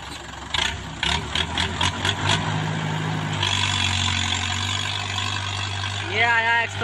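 Tractor engine, a 585 DI XP Plus, running with a low steady rumble that builds and rises as it works, heard under voices talking and some clattering.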